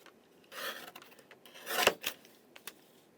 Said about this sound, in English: So I'll use my trimmer.